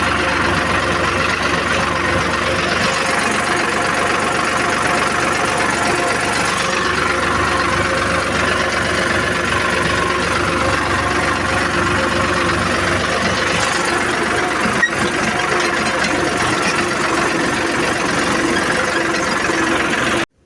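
A tractor with a scraper blade attached idles in a farm field being levelled, its engine a loud, steady, close rumble with a knocking throb that runs unbroken for the whole stretch, with no speech.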